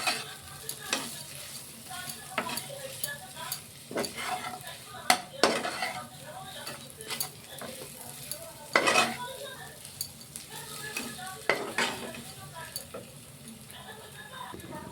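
Mashed potatoes with spices are stirred and pressed in a pan for batata vada, with repeated sharp clanks of a utensil against metal over a soft, low sizzle and occasional talk.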